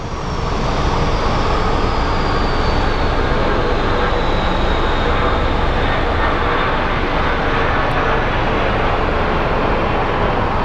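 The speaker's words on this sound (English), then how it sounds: "this looks like a little Mesa Airlines CRJ." A Mesa Airlines CRJ jet at Phoenix Sky Harbor International Airport fills the air with a loud, continuous engine roar, and a faint whine slides slowly downward over the steady rumble.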